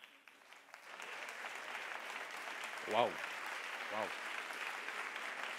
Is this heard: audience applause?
yes